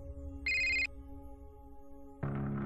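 A phone ringtone sounds in one short, clear electronic burst over quiet background music in a Marathi TV drama scene, followed by a louder musical swell.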